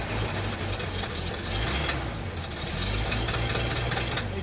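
A 1974 Ford F-250 V8 idles with its choke still closed, a rough, steady rumble with irregular knocking pulses, close and continuous.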